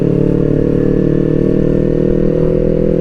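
Kawasaki Ninja 250 FI motorcycle being ridden on a test ride in Indonesia, its engine running loud and close in a steady, unbroken drone.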